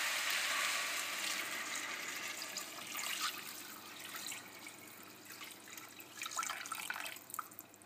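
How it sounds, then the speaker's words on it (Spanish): A litre of water poured into a stew pot of lentils, a steady broadband splash and gurgle that is loudest at the start and slowly eases, with a few brighter spatters near the end. "Yo le he echado 1 litro de agua."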